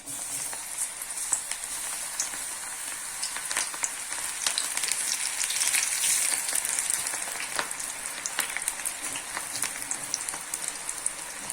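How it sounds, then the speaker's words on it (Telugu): Onion pakoda batter frying in hot oil in a kadai gives off a steady, crackling sizzle with scattered sharp pops and spits, close and continuous, swelling a little midway before settling back, with no voices. "కళాయిలో ఆయిల్ వేసుకున్నానండి, వేడెక్కింది. ఇప్పుడు పకోడీ వేసుకోవాలి."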